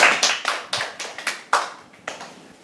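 A worship congregation claps in steady unison, about eleven sharp, close claps in roughly two and a half seconds, with no talking.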